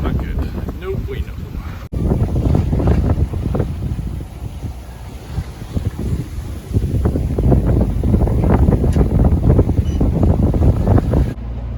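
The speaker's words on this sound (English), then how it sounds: "we have north or northwest wind blowing about 10 knots" Wind of about 10 knots from the north or northwest buffets the microphone aboard a sailboat at sea off the Carolina coast as a squall approaches, loud gusty rumbling rising and falling nearly continuously, with a brief dropout early on.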